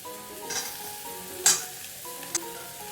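Potato and eggplant pieces with ginger paste frying and being stirred in hot oil in a pan for a fish-head curry, with a steady low sizzle, a sharp loud crackle burst near the middle and a smaller one later.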